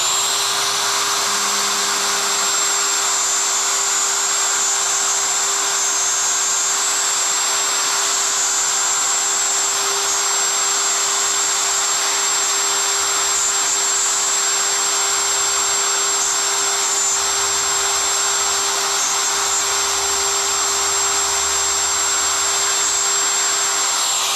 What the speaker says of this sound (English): When you're with your router, moving it around in here, go clockwise.